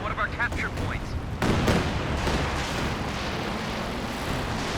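Calliope rocket artillery in Company of Heroes 2 lets loose in a sudden loud barrage that leaves a rolling, rumbling wash of blasts, with a commentator's voice heard briefly just before the salvo.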